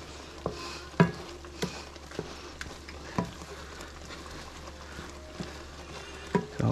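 Breakfast food frying in a pan over medium heat makes a soft, steady sizzle, broken by scattered sharp clicks and taps of a utensil moving things around.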